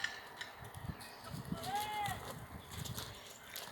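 A goat at a livestock sale gives a single drawn-out bleat midway, heard under someone talking nearby.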